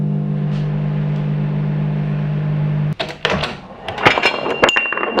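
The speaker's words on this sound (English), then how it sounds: "we're going to give it a very short burst on the microwave" A kitchen microwave oven heating a crunchy chocolate bar hums steadily with a low drone for about three seconds, then stops, followed by clunks and door-opening clatter nearby.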